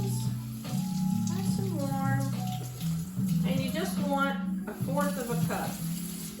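Lukewarm tap water runs into a container for proofing yeast, a steady close splashing stream under someone talking throughout.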